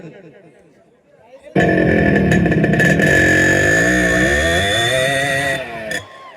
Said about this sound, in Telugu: బైక్ స్టార్ట్ చేసినాడు. కాలేజీకి వెళ్తున్నాడు.